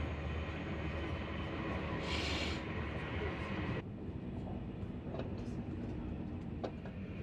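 A TGV high-speed train decelerating on the approach to Avignon, heard from inside the carriage as a steady broadband rumble of wheels and air, with a brief hiss partway through and a slight drop in level as the run continues.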